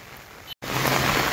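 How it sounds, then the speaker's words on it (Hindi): Heavy rain pours steadily during a monsoon downpour in Nainital, a dense broadband hiss that drops out briefly at a cut, then returns louder and fuller. "बारिश तेज है।"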